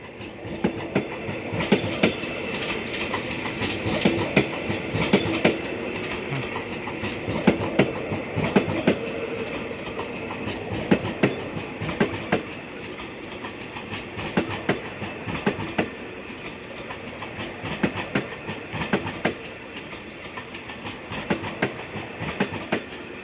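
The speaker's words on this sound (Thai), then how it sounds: "รถเปล่าเข้ากรุงเทพครับ" An empty train bound for Bangkok rolls past near a locomotive depot in Thailand, its wheels beating out a steady, rhythmic clickety-clack over rail joints for the whole pass, loud and close, with no talking.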